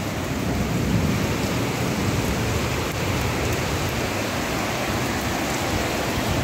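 Heavy rain pours in Ramamurthy Nagar, Bengaluru, with drainage water mixing into the runoff, a dense, steady hiss of downpour and rushing water with no pause throughout.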